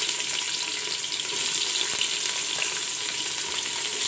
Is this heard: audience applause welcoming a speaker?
no